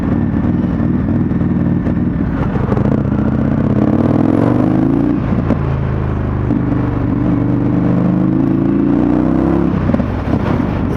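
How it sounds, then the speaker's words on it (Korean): An Indian FTR1200 motorcycle accelerates hard through the gears, its loud, close exhaust note climbing in pitch, dropping briefly at each shift, then climbing again. "배기음이 장난이 아닙니다."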